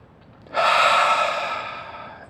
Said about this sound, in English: I literally just stop, I pause, I take 2 deep breaths